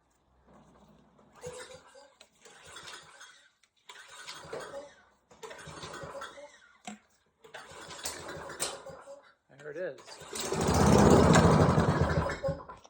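A lawnmower's small engine with a no-start fault tries to start in repeated short pulls, then catches and runs roughly for a couple of seconds; a voice speaks briefly.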